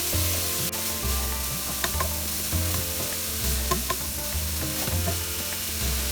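Shredded cabbage and carom seeds being stirred in a hot frying pan, with a steady sizzle and repeated scraping strokes of the spoon, close and continuous with no talking.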